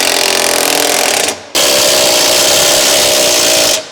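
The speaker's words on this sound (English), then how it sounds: "Tighten the rear bushing through bolt using an 18 mm deep socket along with a 21" Loud power tool bursts while an 18 mm deep socket drives the rear control arm bushing through bolt on a Ford Escape, two close runs split by a short pause.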